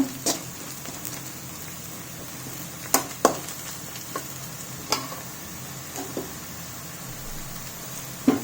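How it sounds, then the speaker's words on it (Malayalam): Coriander, mint, carrot and beans are stir-fried in a pan for fried rice made with ration rice, with a soft continuous sizzle broken by scattered sharp spatula scrapes and clinks. "ഇപ്പോൾ മല്ലി പുതിന ക്യാരറ്റ് ബീൻസ് ഇതെല്ലാം കൂടെ ചേർത്ത് വഴറ്റി വരുന്നതിൻ്റെ നല്ലൊരു മണം വരുന്നുണ്ട്"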